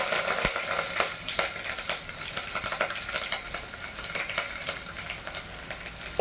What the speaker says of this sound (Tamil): பொரியட்டும் வரமிளகா வெங்காயம் கருவேப்பிலை